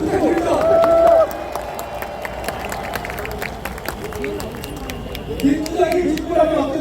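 An outdoor rally crowd claps for lawyer Seok Dong-hyeon, scattered sharp claps and crowd noise running beneath a loud amplified voice that speaks over most of the moment.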